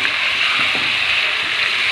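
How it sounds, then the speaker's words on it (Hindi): A little water hits spices frying in a pan for chicken curry, raising a loud, steady hiss and sizzle that fills the whole moment, with faint bubbling underneath. "तो इसमें ये थोड़ा सा मैंने पानी डाल दिया, ताकि ये जले ना मसाले।"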